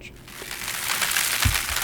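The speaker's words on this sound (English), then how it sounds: "I wanted some more of that high crackle to" A high crackle layer built from white noise for a fire sound effect fizzes and sputters in dense, bright, irregular crackles, swelling louder with a low thump near the end.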